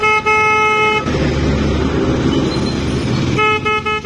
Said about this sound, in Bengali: হর্নটা একটু আগে বাজছিল